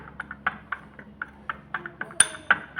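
A turmeric skin-care paste being mixed in a small bowl, with a spoon tapping and scraping in a quick irregular rhythm and a few brighter clinks near the end, close and fairly quiet.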